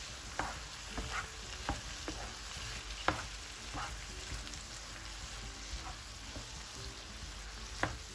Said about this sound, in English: So now put the heat to a simmering and carry on cooking for 35-40 minutes.